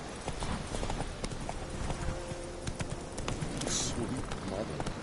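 Galloping hooves of the horse ridden in The Witcher 3 video game, a steady rapid clip-clop that runs under a layer of background noise and game sound for the whole stretch.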